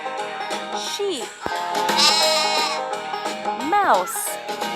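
A sheep bleats a few times in a farm-animal kids' game, wavering calls over steady music, clear and close.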